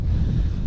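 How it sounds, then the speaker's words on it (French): Wind buffets the microphone during a bike ride from Toulon to Brest, a loud, steady low rumble that runs through the whole moment and carries no voice. "il y a du vent, je sais pas si vous m'entendez bien"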